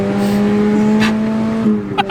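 A Nissan Micra driven hard gives a steady, loud engine drone that holds one strained pitch, with brief sharp bursts near the end.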